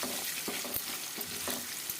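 Kothimeera pachadi tempering (popu) sizzles in hot oil, a steady crackling fry with a few soft clicks of stirring, fairly close and continuous with no voices.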